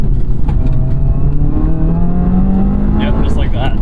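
A 2019 Subaru WRX engine drones loudly under full throttle from inside the cabin, a steady rising growl with road and wind noise, plus a brief voice near the end.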